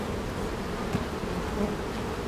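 Honeybees buzz in a steady, faint drone around an outdoor beekeeping yard on a hot, humid day of about 88 degrees, with no talking.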